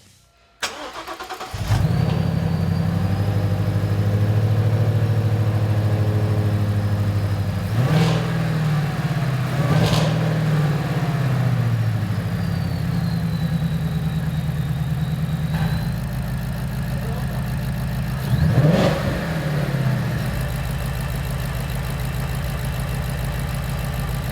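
A 2015-2017 Ford Mustang GT fitted with a Ford Racing Roush Phase 1 supercharger cranks and fires, then settles into a loud, steady idle close by, broken by several sharp revs of the engine with a faint supercharger whine.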